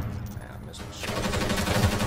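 Call of Duty: Modern Warfare 3 ranked multiplayer gunfire swells into a rapid, continuous burst after a quieter opening second, loud and close.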